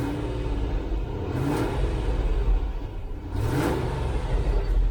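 A 1989 Range Rover Vogue SE engine with a faulty throttle position sensor is blipped twice, each rev swelling into a mid-toned rumble and settling back to a steady idle.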